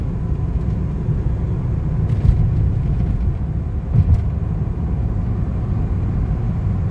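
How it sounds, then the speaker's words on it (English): A 1998 BMW 323i pulls away and works up through its gears, heard as a steady, loud engine and road drone from inside the car, with brief dips where it shifts. "We'll go back the other way and get a little bit more speed. All right, we get it shifting through the gears."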